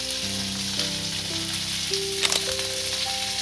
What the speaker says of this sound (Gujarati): હવે તેલ આપણું સારી રીતના ગરમ થઈ ગયું છે, આમાં ભીંડો નાખી દઈશું